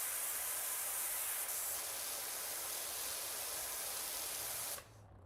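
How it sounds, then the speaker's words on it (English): A pressure washer jet sprays steadily in PowerWash Simulator 2, a broad continuous hiss at constant level that cuts off abruptly near the end, leaving a faint low hum. "the spraying is loud"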